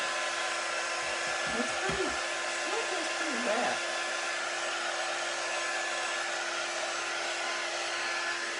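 A hair dryer blows with a steady, loud whooshing hum throughout, drying paint, while a voice speaks briefly under it near the start.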